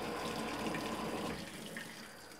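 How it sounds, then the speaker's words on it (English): An LG WT1101CW 4.1 cu. ft. high-efficiency top-load washer runs water onto the load to rebalance it: a steady broadband rush of running water, fairly quiet, softening slightly partway through, with no talking. "It sounds more like this is just putting some water on the load to try and rebalance it."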